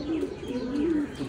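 Pet pigeons on a balcony give a brief, soft, low cooing call, faint and close, with no talk over it.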